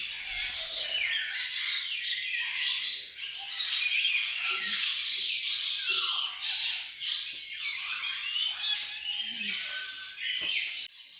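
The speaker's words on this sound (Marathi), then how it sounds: "पक्ष्यांचा आवाज" Several birds squawk and chirp in a busy, overlapping chorus, fairly close and steady throughout, with no talking.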